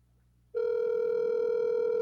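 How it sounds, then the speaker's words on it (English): A telephone call plays out as a steady, loud ringback or dial tone that starts abruptly after a short quiet moment and holds unbroken to the end. "First, I'm calling Hales."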